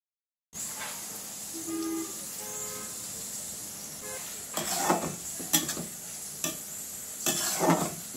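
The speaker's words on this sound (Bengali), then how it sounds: "পেঁয়াজগুলো আমি হালকা গোলাপি করে ভেজে নেব, বেশি ভাজবো না" Chopped onions, added after a cumin and dried red chilli tempering, fry in oil with a soft sizzle while a utensil scrapes and stirs in several bursts, and faint tonal beeps sound in the background early on.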